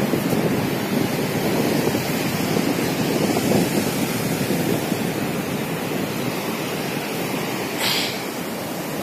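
Sea waves washing onto the sandy beach at Digha, a close, continuous rushing surf with wind buffeting the microphone and no pauses.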